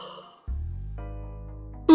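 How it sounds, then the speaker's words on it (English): A person breathing in during a Pilates workout: a soft audible inhale lasting about a second and a half after a brief pause, ending in a brighter breathy rise, heard alone and close. "Breathing in"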